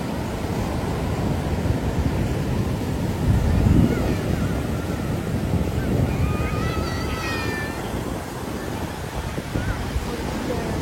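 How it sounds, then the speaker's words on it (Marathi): Sea waves roll and crash on Devgad beach in a broad, continuous roar with a louder surge partway through, wind buffeting the microphone and faint high calls briefly audible. "तिथपर्यंत लाटा जाऊन आपटते"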